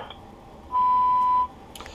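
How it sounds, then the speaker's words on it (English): A single steady electronic beep, clean and mid-pitched, lasting under a second against a faint hiss. "Please leave me a message after the beep."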